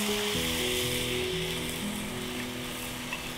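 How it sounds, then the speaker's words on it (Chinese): Marinade poured into a hot pan for black pepper teriyaki beef sizzles in a loud, continuous hiss with bubbling, steady throughout with no talking. "转小火，加入我们的腌料。"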